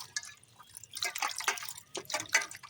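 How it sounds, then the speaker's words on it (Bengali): Chicken pieces rinsed under a running kitchen tap, with splashing bursts of water, dripping and handling in short irregular spurts, close and fairly quiet. "আমি তিন চারবার করে ভালো করে ধুয়ে নিচ্ছি কলের তলায়"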